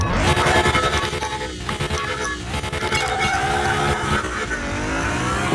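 A Nissan GTR R35 launching hard in Car Mechanic Simulator 2021, a loud close engine roar revving and climbing through gears with tire squeal, sustained throughout.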